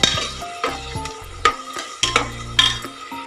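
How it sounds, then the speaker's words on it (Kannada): Green peas and tomatoes sizzle in hot oil for tomato bath while a spoon scrapes and knocks against the pan in quick, uneven strokes, loud and close with no talking. "ಬಟಾಣಿಯನ್ನು ಸಹ ಇದೇ ಸಮಯದಲ್ಲಿ ಹಾಕಿ ಅದು ಎಣ್ಣೆಯಲ್ಲಿ ಸ್ವಲ್ಪ ಮಗ್ಗಬೇಕು"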